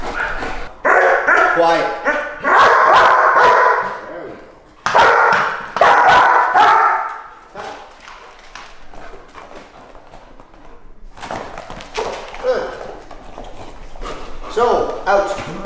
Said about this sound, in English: I made a lot of the barking, a lot of the activity with the dog